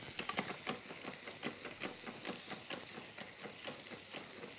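Thick veal chops sizzle steadily in butter as they are rolled through the pan, a dense crackling fry with quick pops and faint scraping stirs, close and continuous with no talk.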